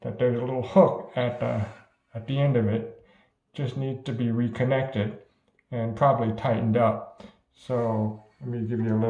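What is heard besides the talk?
No distinct noise like a dog, phone or traffic.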